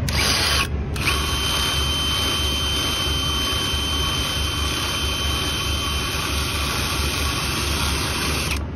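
A truck engine pulls hard in third gear while moving a chained steel coil, giving a loud, steady mechanical roar with a high whine that holds almost unchanged, briefly cut by a short dip near the start.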